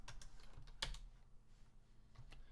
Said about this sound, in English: we can do this by typing beat pattern